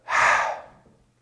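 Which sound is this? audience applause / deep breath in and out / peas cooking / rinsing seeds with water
deep breath in and out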